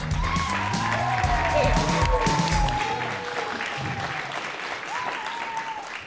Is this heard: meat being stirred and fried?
no